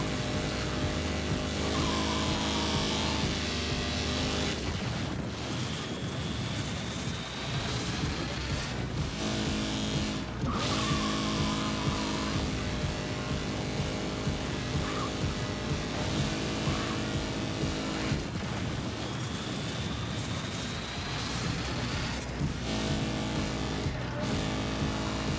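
Race car engines roar steadily throughout in the Screamer racing video game, with rising whines and gear-change dips over a dense, loud mix of game audio.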